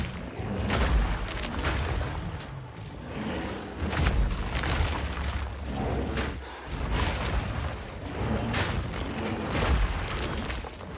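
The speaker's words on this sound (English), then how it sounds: "So that's that explosion." Explosions from a druid's attack in a fantasy action game: repeated deep booms and bursts, about one every second or two, rolling over a loud, busy combat backdrop.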